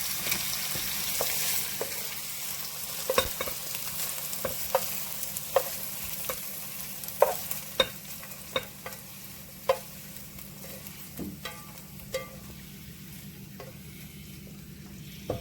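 Chicken and shrimp sizzle steadily in a hot pan while a utensil scrapes and taps against it every second or so, the frying hiss constant and close, no voices.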